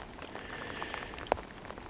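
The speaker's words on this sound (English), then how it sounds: "and it is raining" Rain falls steadily at a camp in Sweden, a soft continuous patter on surfaces with a few sharper individual drops standing out, and no talking.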